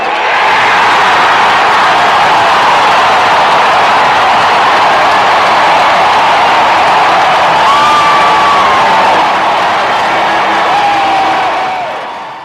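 A Saskatchewan Roughriders stadium crowd roars during a CFL football game after a pick six by Nick Marshall. The cheering is loud and sustained, with whoops and whistles, then fades slightly at the end.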